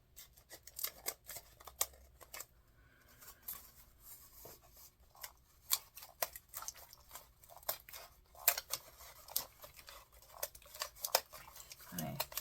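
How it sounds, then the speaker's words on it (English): Sharp scissors snipping through magazine paper in quick, crisp, irregular cuts, close and quiet, with soft paper rustling between snips. "you want a fairly sharp pair of scissors"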